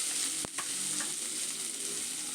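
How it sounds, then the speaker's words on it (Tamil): Onions sizzle steadily in hot oil, a constant bright hiss broken by a brief scrape of stirring. "இதை வதக்கி விட்டுக்கலாம்."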